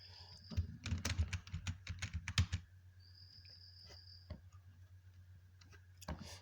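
A title is typed on a computer keyboard, a quick close run of crisp key clicks followed by a pause and a few scattered taps, quiet and without voices.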